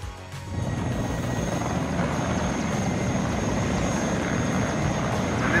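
A military helicopter in the video game WARNO flies with a steady, loud rotor and engine drone that kicks in after a brief quieter moment and holds constant throughout.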